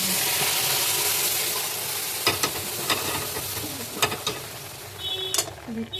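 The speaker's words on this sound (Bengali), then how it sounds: "দিয়ে এবার নাড়তে থাকবো যাতে নিচে ধরে না যায়" A spoon scrapes and stirs an ice cream gorowa mixture in a pan over a low flame. Irregular clinking knocks sit over a steady background hiss.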